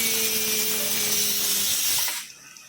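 A pressure cooker cooking khichdi whistles: a loud, steady hiss of steam jets for about two seconds with a faint tonal whistle inside it, then cuts off abruptly to quiet.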